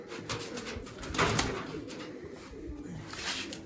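Pigeons coo softly and repeatedly near a rooftop loft with young birds, low murmuring calls under steady outdoor background noise.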